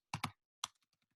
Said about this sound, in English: I'm going to type in the same thing